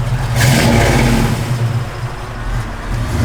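A 1965 Chevrolet Malibu engine with a mild performance cam revs up loudly and holds a rough, throaty idle with a lumpy rhythm, close by and steady.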